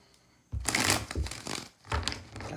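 Tarot cards are shuffled close up in two brisk riffling bursts, with papery crackles between them and faint background noise.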